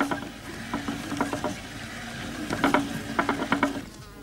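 A big wooden spinning wheel spinning wool, its spindle driven by a wool band, gives off a steady mechanical hum with repeated clicking, ratcheting taps in uneven bursts, heard close up with no voices.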